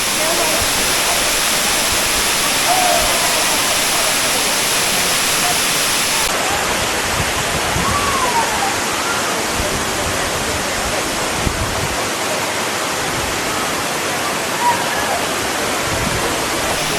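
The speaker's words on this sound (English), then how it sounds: "And this is the main waterfall." Cascada Juan Curi's main waterfall near San Gil rushes in a constant, dense roar throughout, with faint voices of a crowd of visitors occasionally rising above the water.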